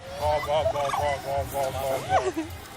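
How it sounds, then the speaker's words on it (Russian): Poultry at a fair where visitors could meet, touch and feed the birds give loud, gobbling and honking calls in rhythmic bursts, ending in a rising and falling cry, close by. "Также можно было познакомиться с различными пернатами, потрогать, покормить их."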